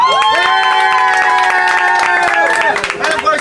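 A cruise-ship crowd cheers and shouts for a game winner, loud and close, with high sustained voices and scattered claps building together into a lively roar.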